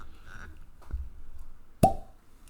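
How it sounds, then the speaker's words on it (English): A single sharp cork pop from a whiskey bottle cracks out near and loud after a couple of soft handling knocks, then a brief fading ring. "Cork pop."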